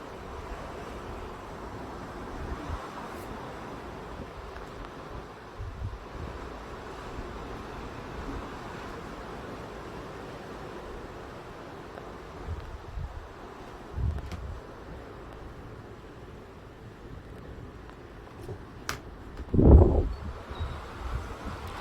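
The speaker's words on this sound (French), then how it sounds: "Oh les rafales!" Strong wind gusts from storm Larisa in Mérignac, around 120 km/h, buffet outdoors as a continuous low roar with swelling surges and one loud blast near the end.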